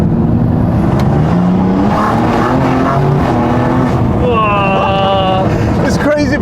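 BMW M3/M4 with a ZF8 automatic gearbox accelerating hard in sport mode, its engine note climbing and dropping through quick gear shifts, with people talking over the steady engine drone.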